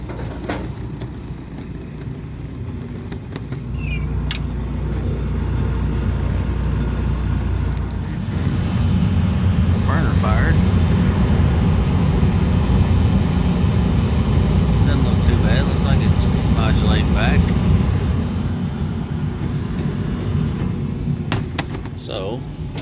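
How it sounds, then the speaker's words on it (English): A gas furnace burner on a Cambridge heating unit firing during a no-heat service call, a steady low roar that swells partway through and holds under a constant mechanical drone, with a few faint chirps and clicks on top. "See if the burner will fire."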